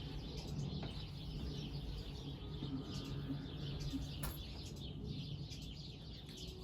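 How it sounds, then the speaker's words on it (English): Birds chirp and call outdoors in scattered short tweets against a steady hiss of background noise, fairly faint and with no one speaking. "what are the birds talking about right now?"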